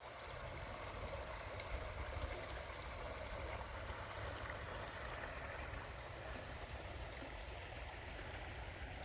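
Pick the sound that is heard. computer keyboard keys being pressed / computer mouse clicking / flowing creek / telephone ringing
flowing creek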